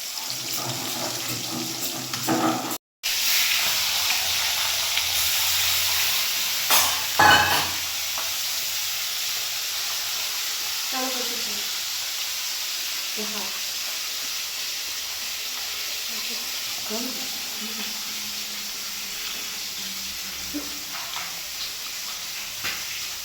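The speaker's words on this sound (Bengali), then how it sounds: "মাছ ভাজছি।" Small fish frying in a pan with spices, a steady hiss of sizzling oil running throughout with occasional stirring clatter and a brief cut near the start; no talking.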